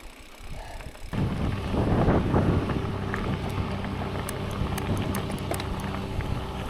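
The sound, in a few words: tractor engine passing nearby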